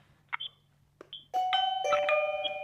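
An Aosu video doorbell SE chime rings indoors: two short dings, a pause, then a sustained, loud multi-tone melody that rings on for over a second.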